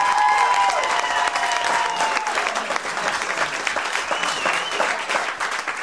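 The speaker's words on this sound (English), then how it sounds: "a round of applause for everybody in the military that's keeping our asses safe" A comedy club audience applauds for military members, a steady, full wash of clapping with some crowd noise that holds from start to finish.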